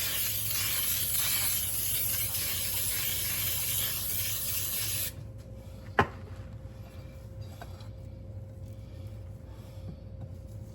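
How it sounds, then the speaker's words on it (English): A baking spray hisses in one steady, close burst for about five seconds, then stops, followed by a sharp tap and quiet background hum. "Do some baking spray."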